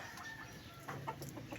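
A chicken clucks softly a few times, fairly close, over a low steady background hum.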